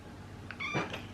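A house cat meows indoors, one short call followed by a louder, longer meow, fairly quiet against a low background hum, with no talking.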